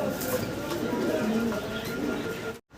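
Jacobin pigeons, silver males and white females, cooing close by in soft low rolling calls under someone talking throughout.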